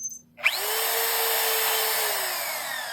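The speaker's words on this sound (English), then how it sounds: "I'm going to do it on this bandsaw, and it really has a tendency to roll" A bandsaw spins up and cuts aluminum stock for a whistle, giving a sustained whining, grinding tone at close range with no talk.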